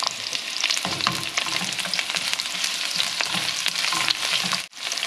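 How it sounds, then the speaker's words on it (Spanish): Onion fries in hot oil for a stuffed-pepper dish, giving a loud, steady crackling sizzle with stirring noises, and a brief dip near the end. "Nuestro aceite ya está calientito, entonces vamos a agregar la cebollita. Queremos que se empiece a dorar."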